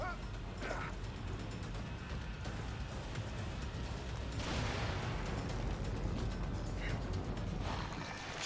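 An explosion in The Evil Within video game, heard as a broad noisy rumble and burst mixed with mechanical creaking and clatter, loud and continuous with no talk over it.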